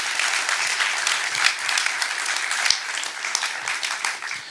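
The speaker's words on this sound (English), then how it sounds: "and people are applauding." An audience at a film Q&A about Elie Wiesel breaks into sustained applause, dense and even clapping from many hands filling the room for several seconds without pause.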